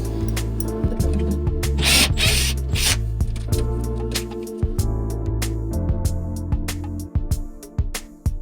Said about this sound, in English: there are some screws at the bottom and I have to unscrew them